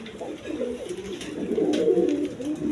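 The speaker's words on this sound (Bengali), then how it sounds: "এইখানে এক পেয়ার বোম্বাই কবুতর আছে ইন্ডিয়ান বোম্বাই কবুতর" Indian Bombay pigeons, a pair kept for sale at a market, coo in low, rolling, continuous murmurs close by, with faint background noise.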